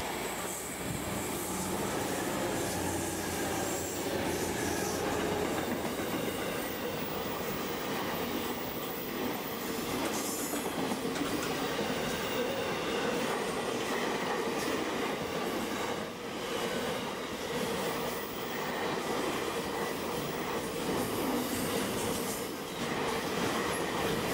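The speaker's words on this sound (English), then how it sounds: "coming past us are 3 diesels from Independent Rail hauling a container train" Three diesel locomotives haul a container train past at Thirlmere, New South Wales, a continuous moderate rumble of wheels and wagons with faint clatter, steady throughout and without voices.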